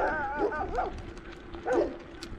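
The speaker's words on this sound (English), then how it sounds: "Y'all are good dogs, aren't you?" Dogs at a rural dairy bark and yip at a passing cyclist in a few short bursts, fairly close, with whiny, pitch-bending calls and background road noise.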